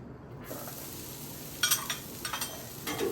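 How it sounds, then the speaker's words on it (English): Onions and garlic sautéing in oil on a Blackstone griddle, a steady close sizzle broken by a few short scraping bursts of a spatula moving them around. "Then we're going to get our onions and garlic sauteing on the Blackstone here."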